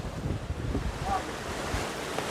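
Sea waves washing on the shore behind a KTDC hotel in Kerala, a steady surf roar mixed with wind buffeting the microphone.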